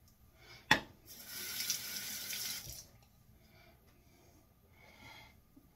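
Tap water runs into a sink for a couple of seconds as a face is moistened during a straight razor shave, with a sharp tap at the start and quiet afterward.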